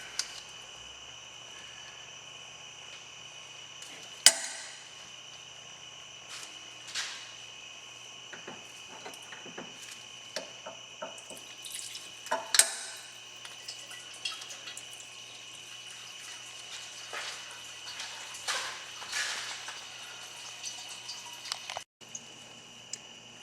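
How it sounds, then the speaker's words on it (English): Coolant from a 2004 Jeep Grand Cherokee 4.7L runs through an attached hose into a jug: a faint, steady watery trickle with scattered small clicks and drips and no talking. "First thing you want to do is drain the coolant. I've attached a hose so that I can direct it into my jug underneath."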